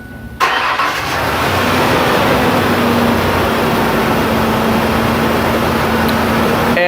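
A car with a clogged exhaust and catalytic converter cranks briefly, fires up, then settles into a loud, steady running drone heard close up with no talk.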